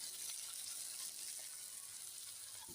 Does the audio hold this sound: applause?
no